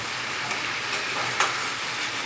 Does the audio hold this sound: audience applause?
no